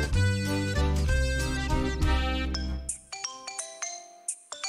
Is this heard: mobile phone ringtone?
yes